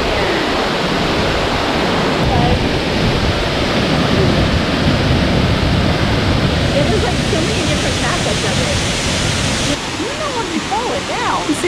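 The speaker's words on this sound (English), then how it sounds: "See that little waterfall and then the big one right there." A waterfall in Pisgah National Forest roars as a loud, continuous broadband rush of falling water, close and steady throughout with no break.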